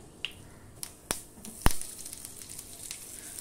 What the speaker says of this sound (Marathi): आमटी आता फोडणीला घालूया.